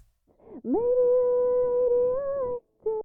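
A muffled, dull sustained note with the top end filtered away above about 500 hertz, holding steady for about two seconds before a brief second note.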